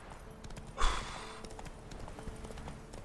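Horse hooves clip-clopping across ground in The Witcher 3, a steady light run of hoofbeats under game ambience, with a louder whooshing burst near the start.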